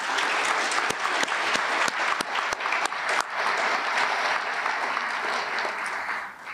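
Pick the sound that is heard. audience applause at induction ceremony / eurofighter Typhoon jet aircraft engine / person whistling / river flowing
audience applause at induction ceremony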